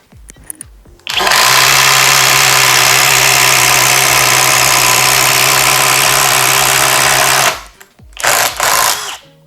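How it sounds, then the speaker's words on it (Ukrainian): A Worcraft CIS-S20LiB cordless impact driver drives a 22 mm Milwaukee Speed Feed spade bit through a pine board, a loud steady whirring and buzzing for about six seconds, followed by shorter bursts after a brief pause. "пробивне сверло Speed Fit від Milwaukee 22 мм, якраз створене спеціально для імпактів. Соснова дошка. Поїхали."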